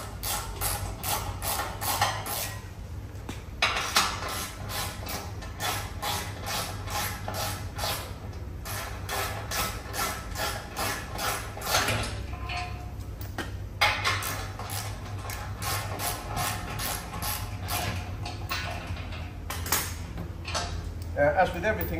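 Ratchet wrench undoing 15mm under-tray bolts on a Ford Ranger Raptor 3.0L, long runs of rapid metallic clicking at close range, pausing between bolts, over a low steady hum.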